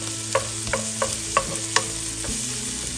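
Onion and tomato fry in a pan for palak paneer while a spoon stirs, giving about six sharp scraping strokes over a steady close sizzle, with no talk.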